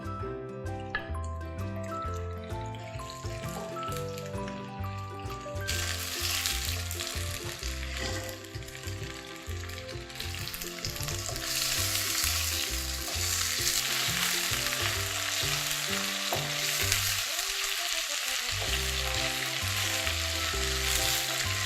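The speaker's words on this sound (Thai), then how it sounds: "ทีนี้เราจะเอาไป ทอดให้สุกค่ะน้ำมันไม่ต้องเยอะมาก" Marinated, battered shrimp fry in a shallow layer of oil, a steady close sizzle with occasional stirring and light crackles throughout, no talking.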